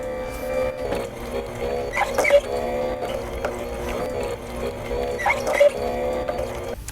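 A juicer grinds fruit and vegetables with a steady mechanical whir, punctuated by repeating clicking, ratcheting bursts at regular intervals, moderately close and fairly quiet.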